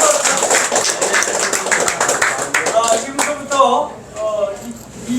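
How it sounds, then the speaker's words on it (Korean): Applause from an audience at a club meeting, a burst of hand clapping that tapers away while people talk over it. "자, 박수!"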